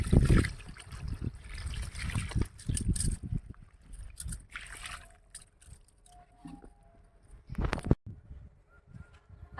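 Rainwater poured by hand onto a newly planted mango sapling of the Sindhu variety, giving an uneven trickle and splash in short bursts, fairly faint and close, with pauses between pours.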